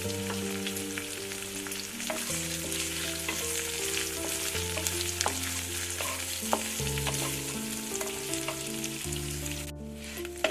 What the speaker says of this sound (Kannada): ಇದೆಲ್ಲ ಈ ರೀತಿ ಫ್ರೈ ಆಗಿದೆ. ಬೆಳ್ಳುಳ್ಳಿ, ಜೀರಿಗೆ, ಈರುಳ್ಳಿ ಹಾಕಿದ್ದೆ ಸ್ನೇಹಿತರೆ.